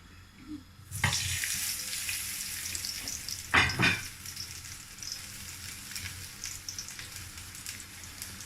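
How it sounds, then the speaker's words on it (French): Par-boiled spring vegetables sauté in a frying pan, a steady sizzle starting with a sharp burst as they hit the hot oil, then a louder stirred crackle midway before settling into continuous frying. "Et après les faire revenir à la poêle"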